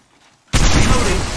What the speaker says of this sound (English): They spotted me. I'm taking shots. Open fire.